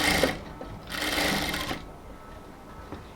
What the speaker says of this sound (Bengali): আস্তে আস্তে ধরে ধরে সেলাই করে আসবো